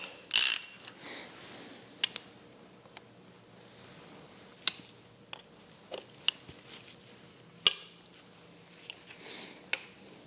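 Faint, sparse ratcheting clicks from a socket wrench refitting the oil drain cap on a Bobcat S850 skid steer loader, with scattered small metallic ticks and clinks in quiet surroundings.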